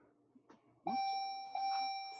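An electronic nurse call bell sounds two steady tonal chimes in quick succession, close and clear, after a few faint knocks.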